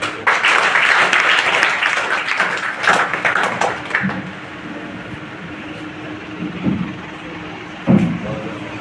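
Audience clapping at a school prize distribution ceremony, a loud dense burst for about four seconds that thins into scattered claps and murmur, with a few louder isolated thumps later.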